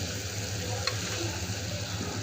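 Yogurt goes into hot, oil-released spices in a pan for a village sabji, giving a steady, even sizzle and frying hiss with a soft clink near the start, no voices.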